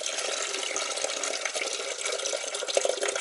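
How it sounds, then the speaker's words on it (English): Water rushes steadily out of a house's plumbing lines at a low point in a basement as they are drained, a continuous close splashing flow. "So I'm just pretty much draining the lines right here."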